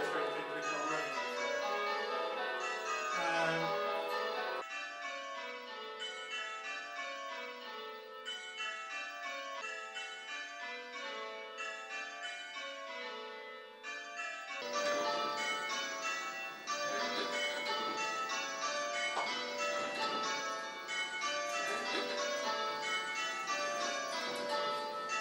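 Church tower bells ring in a steady descending change-ringing pattern, peal after peal, loud and continuous with no talking.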